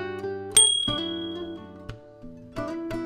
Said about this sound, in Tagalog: pindutin ang notification bell